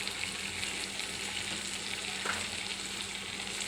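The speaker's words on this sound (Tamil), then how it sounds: "நல்லா கிளறி விட்டுருவோம்." Egg noodles with tomato and chilli sauce sizzle softly in a pan as they are stirred, a faint, even hiss throughout with no voices.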